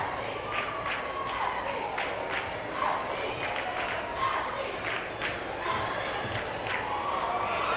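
A crowd at a varsity boys basketball game cheers loudly and continuously, with shouts, sneaker squeaks and sharp thumps punctuating the steady roar of the gym.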